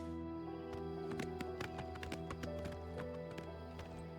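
A horse's hooves clip-clop in quick rhythm as it runs in a video game, with music underneath and faint game sounds, fairly quiet overall.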